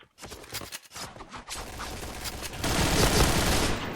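Rapid automatic gunfire in a shooter video game: choppy bursts of shots that merge into a loud, sustained barrage over the last second and a half.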